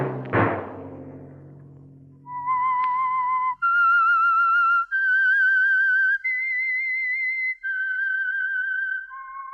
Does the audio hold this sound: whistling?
yes